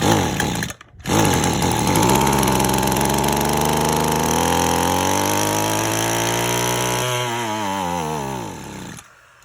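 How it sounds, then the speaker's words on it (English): A small two-stroke weed eater engine with a faulty carburetor sputters briefly, then catches and runs at a steady high buzzing idle before winding down and cutting off near the end, loud and close with no talk. "Now we're gonna try that again and see does it start"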